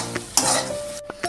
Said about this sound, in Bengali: সমস্ত উপকরণগুলো আবারও ভালো করে কষিয়ে নেব।